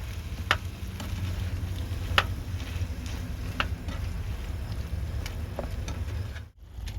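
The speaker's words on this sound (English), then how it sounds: "that simmer for a bit at a very low heat, just so everything can get well combined" Pesto lentil chicken penne simmering at very low heat in a pan while cooking in a van, a steady soft sizzle and bubbling with occasional faint clicks, close and continuous, no talk.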